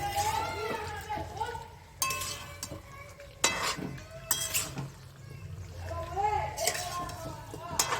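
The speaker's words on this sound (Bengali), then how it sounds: "চাপাটা খুলে একবার নেড়ে নেব।" The lid comes off a pot of chicken curry and a spoon stirs it, scraping and clinking against the metal with a soft sizzle underneath, close by, while a voice talks over it.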